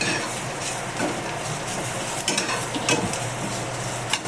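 Tomatoes frying in a pan with roasted onion and coconut, a bright steady sizzle broken by close stirring scrapes and light clinks of a utensil against the pan, no speech.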